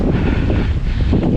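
Strong winter wind gusting at 25 to 30 mph on a snowshoe trail in the Adirondacks, a steady loud roar buffeting the microphone throughout with no voices.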